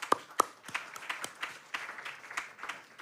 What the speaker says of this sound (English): we give Emilia and her team a round of applause for organizing